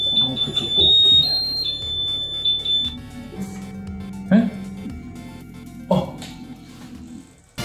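A 3D printer gives a series of high electronic beeps as its bed leveling finishes, the tones clustered in the first few seconds, with people talking nearby throughout.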